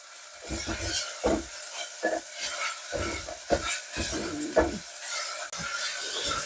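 Ginger garlic paste is stirred and fried in a pot for chicken kulambu, a steady sizzle under repeated scraping and clinking strokes of a spoon against the pan, close and busy throughout.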